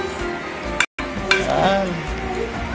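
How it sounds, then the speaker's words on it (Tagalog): Macaroni being stirred in a frying pan, with a sizzling, scraping stir close by, broken by a brief cut, with a voice speaking over part of it. "Next, haluin mo natin."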